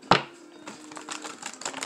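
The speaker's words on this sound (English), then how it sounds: "One last shuffle." A tarot card deck gets shuffled close up, a sharp snap followed by a rapid run of light riffling card clicks, fairly loud and without speech.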